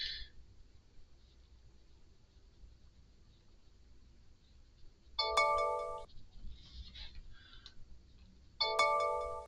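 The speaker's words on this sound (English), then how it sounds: "The bells that you hear ringing are just all from around the thing." Electronic alert bells ring in two short, bright bursts of a few seconds each, standing out over a quiet room background with faint steady hum between them.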